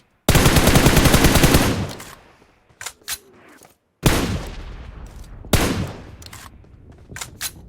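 Automatic gunfire from a PUBG Mobile battle royale match: a loud sustained burst of rapid shots, then scattered shorter bursts and single reports with quiet gaps between them, close and dominant, with no talk over it.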